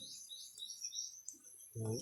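Bird chirping outdoors in quick, faint, high tweets running through the whole clip, with a brief voice near the end.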